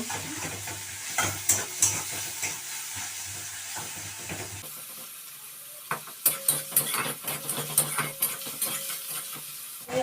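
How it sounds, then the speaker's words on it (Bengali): Onion and green chilies fry in a pan with a steady sizzle, broken by repeated clacks and scrapes of a spatula stirring close by; no one speaks. "এই পেঁয়াজ ভাজা আর কাঁচা লঙ্কা ভাজা"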